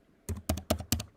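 Keys on a computer keyboard are struck in four quick, crisp pairs of clicks, close and fairly quiet, with nothing else heard.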